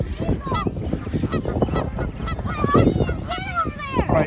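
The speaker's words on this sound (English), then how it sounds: "Geese look a little aggressive." Geese honk repeatedly at a family campsite, a cluster of harsh, nasal calls overlapping at close range with brief pauses between.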